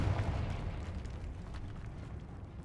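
Confringo blasting spell explosion in Hogwarts Legacy, a fairly faint, rumbling low burst that rolls on as a steady roar across the whole moment with no talk.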